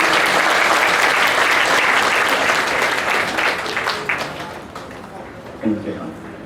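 Loud applause from an audience in a hall, dense clapping that gradually thins and fades over several seconds, with a voice briefly heard near the end.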